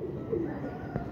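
Breeder pigeons coo softly in a loft, a low, murmuring burble close by with a faint background hum, no talking.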